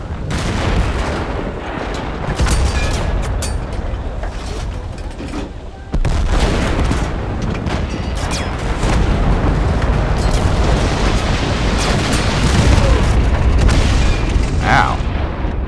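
Artillery strike explosions in Total Conflict: Resistance rumble as heavy, continuous booms and blasts, loud and dense, with a sudden strong impact partway through and a voice talking over the barrage.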